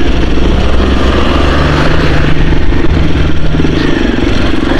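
A motorcycle engine drones continuously while riding on a road near a tunnel, a loud, close, steady rumble with wind buffeting and no speech.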